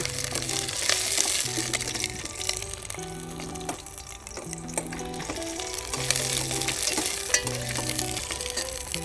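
Small onions frying in a pan for sambar, a steady crackling sizzle with stirring scrapes throughout, close and continuous with no talk.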